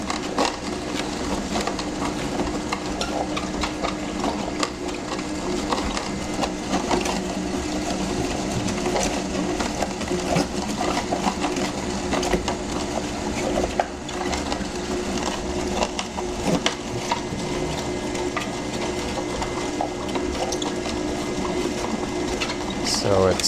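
A Hurom H400 slow juicer runs while cutting and pressing produce, a continuous close mechanical whir and grinding drone with faint creaks, steady throughout, with a person's voice heard faintly underneath.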